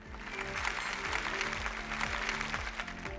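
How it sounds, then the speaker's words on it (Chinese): Studio audience applause welcoming an archaeology researcher onto a televised lecture stage, a steady dense wash of clapping with a low musical bed underneath, sustained and fairly loud throughout. "我们现在就掌声欢迎范老师上场"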